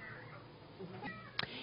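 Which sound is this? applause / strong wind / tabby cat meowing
tabby cat meowing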